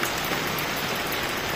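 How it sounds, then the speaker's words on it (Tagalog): Heavy rain falls steadily near a greenhouse in mountainous Benguet, a constant close hiss of drops on surfaces with no break. "Medyo malakas pa yung ulan."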